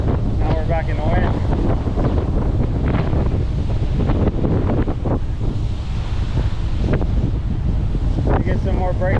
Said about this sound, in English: Now we're back in the wind.